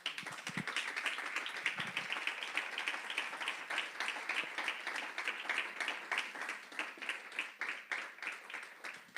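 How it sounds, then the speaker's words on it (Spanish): A church congregation applauds during a Sunday Spanish-language service, a dense sustained clapping that fills the space from start to finish, with a few brief voices at the very beginning. "Dale un aplauso al Señor"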